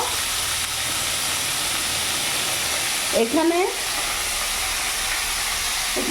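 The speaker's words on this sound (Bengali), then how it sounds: "এখানে ফুলকপিগুলো ভাজা হোক" Cauliflower florets fry in a pan for an aloo dum dish, giving a steady, close hiss of oil that runs throughout. A voice speaks briefly midway over the sizzle.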